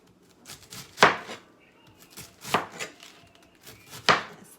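A knife slicing fish taco ingredients into thin pieces on a board, three sharp chopping strikes spaced about a second and a half apart with lighter cuts between, close up and alone.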